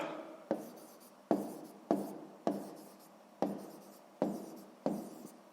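Pen or pencil writing by hand on paper during a sixth-grade math exercise, a series of about eight short scratchy strokes at a steady rhythm, quiet and close, with no voices.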